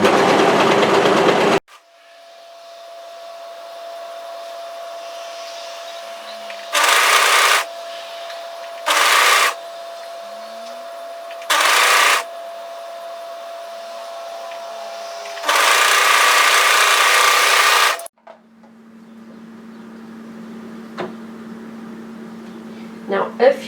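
A serger trims and overlocks the raveling edge of knit fabric for a raglan top, running in several loud bursts: three short runs, then a longer one, separated by quiet pauses.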